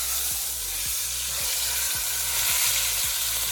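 Beef sizzles loudly and steadily in a hot pan while being flipped during a braise, a dense frying hiss with a few low knocks as the meat is lifted and turned, heard alone without talk.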